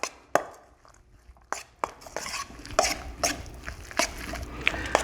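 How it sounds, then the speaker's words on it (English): A spoon mixes egg salad with yellow mustard in a bowl, making irregular clacks and scrapes against the bowl over soft, wet squishing, close and fairly loud. "And then we're gonna mix this up."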